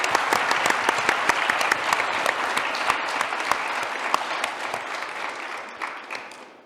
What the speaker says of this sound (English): we should all maybe clap a little bit for Chief Jerry because he was just reelected